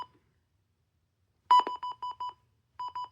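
A small WR-300 electronic alarm set to its low siren level gives short, quiet beeps: one brief tone, a pause, then a quick series of pulsed beeps in a steady rhythm.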